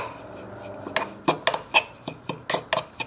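A spoon stirs chopped cilantro into a sweet and spicy vegan malai kofta sauce, knocking against the pot in about ten sharp metallic clinks and scrapes. The clinks come at an irregular rhythm, close and fairly loud, with no talking.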